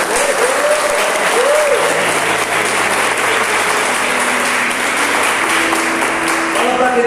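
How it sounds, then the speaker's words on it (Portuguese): Church congregation applauding, loud sustained clapping from a large crowd filling the room, with a few voices and tones rising over the steady wash of hands. "Aplauda a nossa igreja, aplauda."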